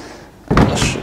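A Volkswagen Passat estate car door swings shut close by, giving one solid thud after a quiet moment, followed by a brief, fuller resonance.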